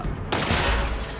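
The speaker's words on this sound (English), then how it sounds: "Killed both of them with that ricochet." A ricocheting power shot in the turn-based shooter SteamWorld Heist 2, a single sharp loud gunshot burst that rings out and decays with a short rumbling tail.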